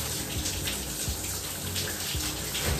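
Shower water running steadily in a home bathroom, a dense continuous hiss of spray falling on a surface with no talk over it.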